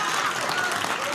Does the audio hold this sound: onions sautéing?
no